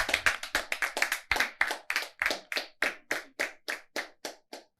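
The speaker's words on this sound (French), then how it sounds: "Si vous avez aimé, on l'applaudit encore" After a rap performance at a live show, an audience claps in a sharp, steady unison rhythm, about twenty distinct beats that gradually spread out and soften toward the end.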